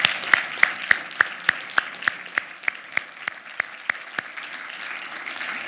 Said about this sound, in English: let's give another round of applause to all of the finalists and award winners this evening